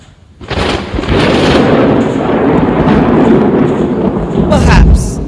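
A stage play thunder effect in a college drama production: a loud, sudden rumbling roar that swells and sustains with crackling texture, ending in sharper bursts.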